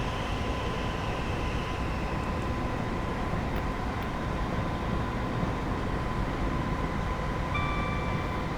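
A Thameslink class 319 electric train in Train Simulator 2019 runs steadily under notch 2 power on the Bedford to St Pancras route near West Hampstead, a constant rumbling drone with a faint whine throughout.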